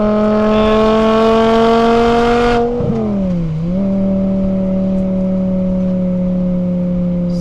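A BMW E61 M5 Touring with a six-speed manual pulls hard in third gear, its engine a loud, steady high-pitched wail that dips briefly at a shift or lift, then settles into a lower drone, heard from inside the car.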